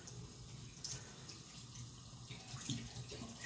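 Tap water running into a sink during handwashing, a steady, soft, even splashing stream with no speech.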